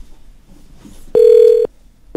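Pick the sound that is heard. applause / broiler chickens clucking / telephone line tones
telephone line tones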